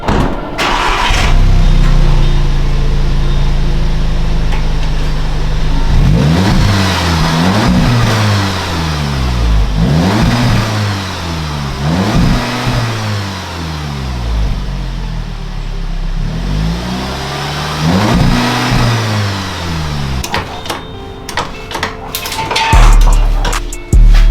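A 2016 Audi S3 fitted with an AWE Track Edition exhaust revs repeatedly in loud, rising and falling bursts, several in close succession after a steady idle, with a final sharp blip near the end.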